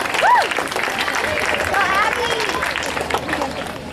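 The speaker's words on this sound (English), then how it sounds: "Let's give her a round of applause" Students at a school student body election clap for a 7th grade candidate, a full burst of applause with a brief voice over its start, tapering slowly as the clapping thins out.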